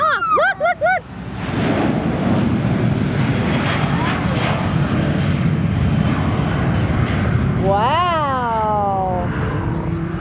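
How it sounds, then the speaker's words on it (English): A fixed-wing airplane takes off with a loud, steady engine roar that fills the whole stretch, while nearby voices talk over it and a high whine rises near the end. "Look, Bryce, the airplane's taking off."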